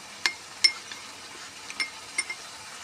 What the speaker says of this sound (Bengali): একটি বাটিতে কর্নফ্লাওয়ার নিয়ে নিয়েছি, তার মধ্যে সামান্য পরিমাণে জল মিশিয়ে আমি গুলে নেব